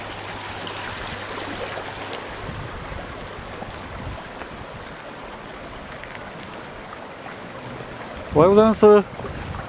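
Wind and rain from Typhoon No. 11 in Japan, September 2009, form a steady rushing hiss throughout, with a short spoken greeting near the end.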